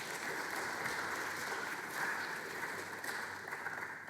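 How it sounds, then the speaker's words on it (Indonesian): Wedding guests applaud at a church wedding reception, a steady, dense wash of clapping from a crowd held at even loudness throughout, heard from a moderate distance with no voices standing out. "Mari kita memberikan sambutan tepuk tangan saudara-saudara."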